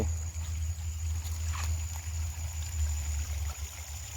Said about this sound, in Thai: นี่ครับ น้ำไหล ทั้งนี้เป็นคลอง เขาปล่อยน้ำออกครับคลองใหญ่